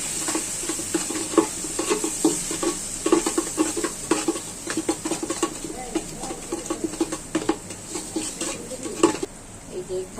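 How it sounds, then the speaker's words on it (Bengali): Rice being fried with ginger, garlic, salt, garam masala, turmeric and chili powder for bhuna khichuri, a soft sizzle under frequent clinking stirs of a spoon against the pot, close and steady. "চালটা আমি ভাজবো মশলার সাথে।"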